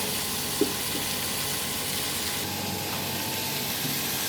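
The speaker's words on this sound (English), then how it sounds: "You hear the song of the pot. It's sizzling." Steady broadband sizzling from beef stew cubes browning in a hot pot, continuous and fairly loud, with a faint clink near the start and no voices.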